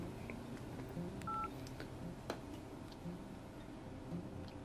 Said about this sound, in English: Let's see what the dial pad looks like.